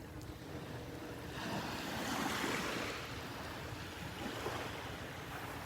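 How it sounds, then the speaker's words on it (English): Tiny waves wash gently onto a beach shore at Delnor-Wiggins, making a soft, steady surf wash that swells slightly in the middle, with some wind noise on the microphone and no voices. "Just some little teeny tiny waves washing up on the shore here"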